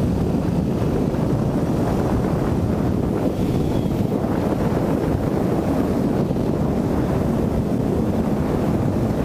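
Steady, loud roar of wind buffeting the microphone while riding a Yamaha MT-07 motorcycle on the road, continuous and unbroken for about nine seconds.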